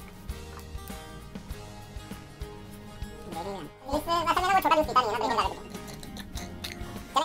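Quick gulping and slurping as juice is drunk fast during a brothers' eating competition, loud and close near the end, following quieter background sounds.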